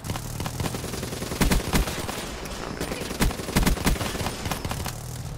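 Loud automatic gunfire in a multiplayer shooter game, a continuous rattle of rounds with several sharper bursts standing out, with no talking over it.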